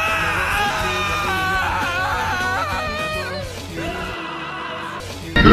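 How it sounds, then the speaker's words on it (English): A video game character screams in anguish, wavering strained cries that rise and fall continuously, over a low rumbling background that ends in a sudden crash. "listening to Ishimaru's heart-wrenching screams, I realize how powerless we all are"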